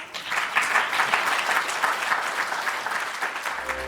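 An audience claps in steady, sustained applause for a speaker at a live event, a dense even wash of hands that is loud and fairly close.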